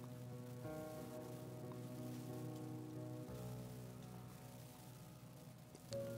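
Steady rain falling in a video game, a constant soft hiss of drops on surfaces with a calm musical tone underneath, evenly loud throughout and free of speech.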